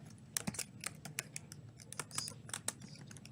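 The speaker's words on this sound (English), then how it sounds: "so I can type text" Text is typed on a computer keyboard in a Google Sites editor, a quick irregular run of close, light key clicks with no voice over it.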